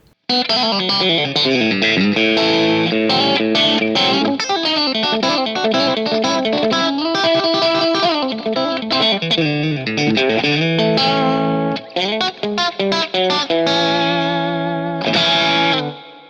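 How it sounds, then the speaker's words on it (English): An electric guitar with the selector switch in position 2, combining bridge and middle pickups, playing alone, bright, twangy and clicky, mixing strummed chords with quick picked notes and a slightly effected, gritty edge. "that clicky country sound that you get when you put the selector switch in the 2 position"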